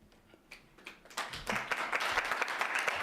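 Applause from an audience in a Halifax council chamber during a community planning committee meeting, starting with a few scattered claps and swelling after about a second into steady, full clapping that continues to the end.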